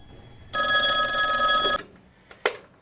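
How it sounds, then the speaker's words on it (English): A telephone bell rings once in a loud, steady electronic trill for about a second, then stops, followed by a couple of faint clicks. "hang on, we've got a phone call"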